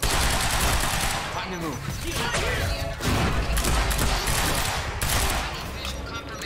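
Heavy weapon fire in the video game Quantum Break, a loud, continuous barrage of rapid shots and crashing impacts throughout, with a voice speaking briefly over the din.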